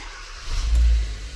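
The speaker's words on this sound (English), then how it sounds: "So I'm gonna give it a start." A rebuilt 2018 Kia Soul's engine cranks and catches, a low, close rumble that swells and then settles into a steady idle, with no voices.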